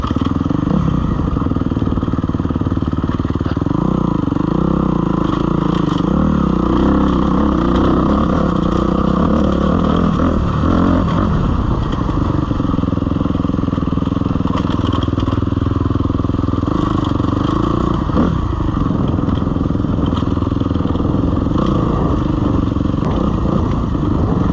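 A dirt bike working down a steep, rocky technical trail of tight switchbacks and loose softball-sized rocks, its engine loud and close throughout, rising and falling in uneven revs while clattering over stones, with no voices.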